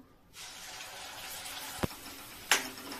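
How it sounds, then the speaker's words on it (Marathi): Ground masala paste for a spicy matki bhaji hits eight spoons of hot oil and bursts into a loud, steady sizzle up close, broken by a couple of sharp utensil clinks, with no talking. "आता लगेचच आपण वाटण घालून चांगलं परतून घेऊ"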